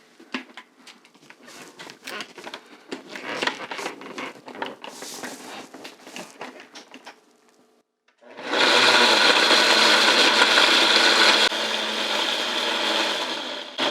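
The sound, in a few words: blender blending rice for horchata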